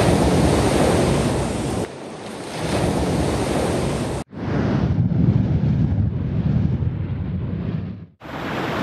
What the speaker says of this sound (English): The waves are crashing from a couple sides